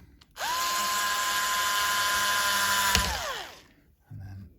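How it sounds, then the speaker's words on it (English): A power screwdriver drives screws into the tuners of a cheap DIY guitar kit: one close, loud whine that spins up, holds steady for about three seconds, then winds down, followed by a brief clatter. "So now we can do up the tuners with the screws."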